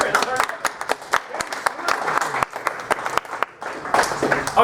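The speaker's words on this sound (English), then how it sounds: "Please give a round of applause for our volunteers." A comedy show crowd at the Copper King in Butte applauds volunteers, with sharp, uneven individual claps ringing out close by amid murmuring voices and scattered talk.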